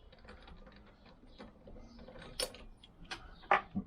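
A wrench loosens bolts on a Lambretta scooter in an X pattern, giving a few scattered metallic clicks and ratchet ticks, faint and close, with sharper clanks toward the end.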